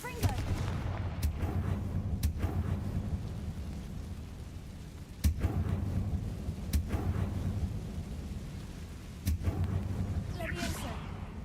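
The Confringo blasting spell in Hogwarts Legacy goes off as several sharp blasts spaced a few seconds apart, each a short cracking burst over a low rumbling game ambience.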